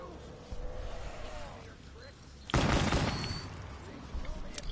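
A burst of gunfire erupts in the Roblox Piggy video game as zombies are shot, one loud volley partway through, with game sounds and a voice talking around it.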